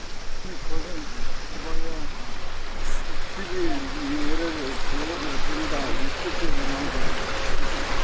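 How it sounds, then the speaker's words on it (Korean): Steady rushing water of the Bulgwangcheon stream fills the scene up close at its stepping stones, with a person talking over it. "저기 저기서 물소리를 좀 크게 담아볼 수 있겠네요"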